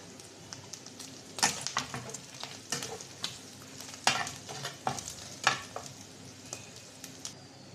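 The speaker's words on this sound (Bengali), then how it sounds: "মাংসগুলো ভেজে নিচ্ছি" Sacrificial meat browns in a hot pan, a loud close sizzle punctuated by repeated sharp stirring scrapes and clatters at an irregular rhythm; nobody speaks.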